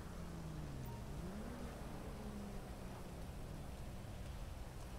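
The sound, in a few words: rain in GTA Online video game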